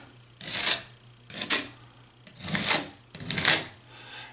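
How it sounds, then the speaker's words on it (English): A spatula scraping excess caulk off a drywall patch, four separate raspy scraping strokes in a slow rhythm, close and fairly quiet with no talk. "You just want to scrape off the extra."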